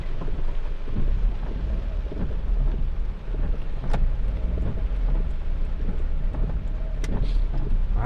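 Steady rain drums on a car in a narrow village lane in Indonesia, a dense continuous wash with low rumbling underneath and a few sharp ticks, no talk.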